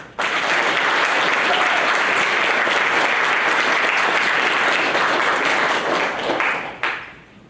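Audience at a senior reading series breaking into sustained applause as a reader comes to the podium, a dense even wash of clapping that swells briefly and fades near the end.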